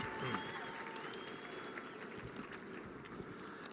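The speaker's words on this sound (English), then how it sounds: "Give yourselves a big round of applause." Graduation crowd applauding at an outdoor commencement ceremony, a broad, steady wash of clapping heard from some distance, with wind buffeting the microphone and faint whistles and cheers.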